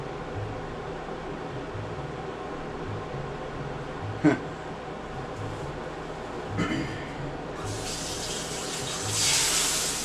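Water runs steadily from a kitchen tap into a sink as something is rinsed out while cooking breakfast, a constant near stream with a couple of sharp knocks and a louder splashing surge near the end.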